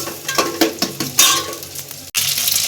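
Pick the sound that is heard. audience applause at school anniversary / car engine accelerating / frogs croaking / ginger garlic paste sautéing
ginger garlic paste sautéing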